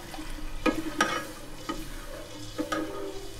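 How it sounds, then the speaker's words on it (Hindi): A spoon stirring besan lassi into kadhi in a pot, several distinct scraping clinks at an irregular pace over a faint simmering hiss, close and fairly quiet. "इसको अच्छी तरह से मिक्स करके और इसमें डालना है आपने, और साथ साथ चम्मच भी हिलाना ताकि गुठलियाँ ना बने"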